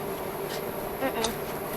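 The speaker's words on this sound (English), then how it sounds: "Looking for more wasps." Wasps buzz around a nest inside a bus undergoing conversion, a steady close insect drone with a few brief louder passes, no talk.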